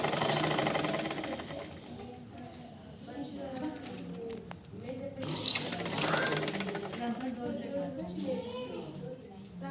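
Domestic sewing machine stitching folded V-shaped fabric, a steady fast mechanical whir running throughout at moderate level, with someone talking over it and a brief louder burst midway.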